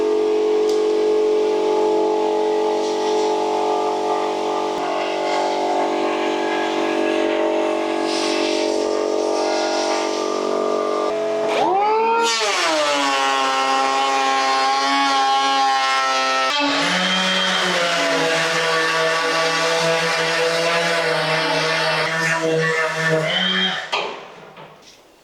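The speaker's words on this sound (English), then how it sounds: "I'm going to use a planer to try to delicately take off 6mm and the back of the skirt" A Hikoki 36V cordless power planer shaves 6mm off the back of a wooden skirting board, its loud harmonic motor whine running steadily, then dipping and shifting pitch as the blades bite, before cutting off at the end.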